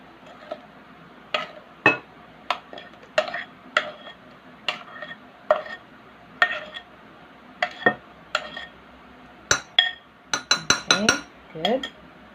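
A spoon clinks and scrapes around a bowl as banana cake batter is mixed, with repeated sharp taps against the sides in an irregular rhythm, close and clear, growing busier toward the end.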